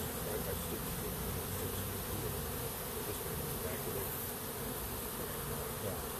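Honey bees buzz steadily and densely throughout while a beehive is opened and worked during a varroa workshop, a close, continuous insect drone with no talk over it.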